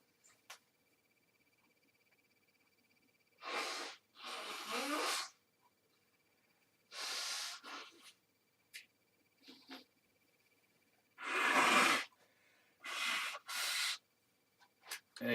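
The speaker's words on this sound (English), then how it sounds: "I'm just going to blow my nose." A person blows their nose in several separate bursts of harsh, breathy rushing air, close and fairly loud against near silence, with brief pauses in between.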